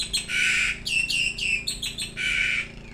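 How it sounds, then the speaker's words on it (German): Two birds call nearby in harsh, squawking bursts, one long cry followed by a run of shorter calls and then another long cry, loud and close with no one speaking. "ich hoffe, ihr hört das, jetzt sind die beiden Vögel wieder da"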